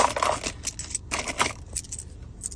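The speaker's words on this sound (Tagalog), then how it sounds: "Sige, may barya ako dito." Small metal pieces clink and jingle in quick, irregular handfuls up close, like coins being sorted in the hand, with faint background traffic.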